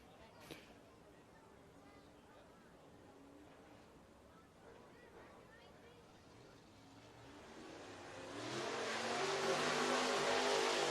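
Race car engines at Southern Raceway in Milton, Florida, drone faintly at first, then swell into a louder revving roar near the end as cars come onto the track, with an announcer talking over the noise.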